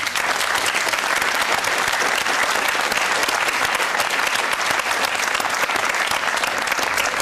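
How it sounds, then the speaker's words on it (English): Sustained, dense clapping from a studio audience at a televised political debate, loud and even throughout with no break. "Is that a round of applause for Oxford and Cambridge?"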